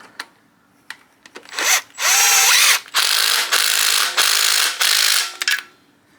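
A ratchet runs a bolt into a bracket on a Miata engine during an individual-throttle-body build, making about five short bursts of close, loud buzzing and whirring separated by brief pauses and small clicks.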